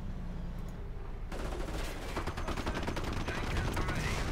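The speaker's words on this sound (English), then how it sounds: "Artillery raining in," Battle sounds from a WWII strategy game: a quiet stretch gives way to dense, continuous gunfire and artillery bursts, loud and sustained, with no voices.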